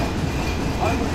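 The Padma Express on its Dhaka–Rajshahi run passes straight through a deserted station late at night as a loud, steady rumble with rail clatter that fills the whole clip.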